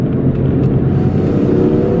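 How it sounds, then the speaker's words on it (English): A BMW E46 M3 with a throaty mid-pipe exhaust revs hard, a loud, close, continuous raspy roar that holds steady for about two seconds. "I think you can hear your mid-pipe here, which makes it a throatier sound"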